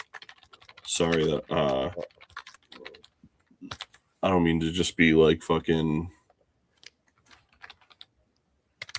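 Rapid, light clicking of a computer keyboard runs through the clip, sometimes alone, while someone talks over it in two bursts.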